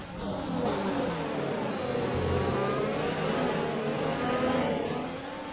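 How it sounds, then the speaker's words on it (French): Renault engine of a Formula 1 car racing in F1 2020, a sustained high-pitched whine rising and falling through gear changes, steady and fairly loud with no talk over it. "Le moteur Renault qui respire plutôt bien en ce début de course"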